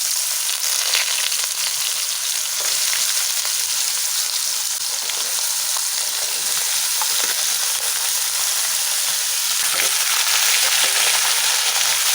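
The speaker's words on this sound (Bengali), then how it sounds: "তেলটা গরম হয়ে গেছে, কটা ছোট রাঁধুনি দিয়ে দেবো।" Radhuni seeds sizzle loudly in hot oil, a dense continuous crackle with scattered pops, close up and without any talking.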